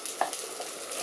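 Onion and meat frying together in a hot pan, a steady close sizzle with faint stirring scrapes, no voices.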